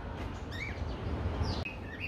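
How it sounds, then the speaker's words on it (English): Birds chirp in thin high calls amid a busy outdoor hum at Sydney zoo, a few clear call phrases over steady background noise. "Look, birds. Heaps of birds there."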